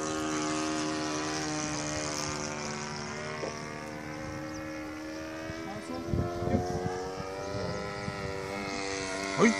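F3A radio-controlled model aeroplane on its maiden flight, a steady whining motor drone with shifting pitch held throughout, moderately loud and fairly close, with brief voices breaking in toward the end.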